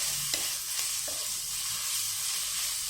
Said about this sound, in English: this ginger garlic paste and this has to be sauteed well